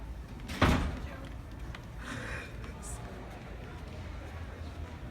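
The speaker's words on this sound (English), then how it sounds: "We'll just go through the door." An office door is pushed open and swings closed, with one loud knock-like thump early on and softer clicks and shuffles afterward. Muffled voices can be heard in the room.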